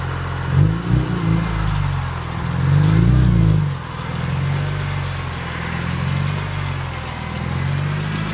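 BMW M3 engine heard from outside, idling with a steady low rumble and two short revving blips followed by a longer, louder rev before settling back to idle.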